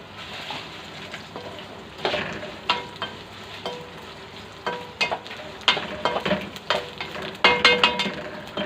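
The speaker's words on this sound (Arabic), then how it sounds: "والبصله مرت كده لونها ذهبي، هفضل انزل عليها بشويه شعريه" Vermicelli frying in oil with golden browned onions in an aluminum pot while preparing Egyptian koshari, with a steady close sizzle and repeated scraping stirs growing louder and more frequent toward the end.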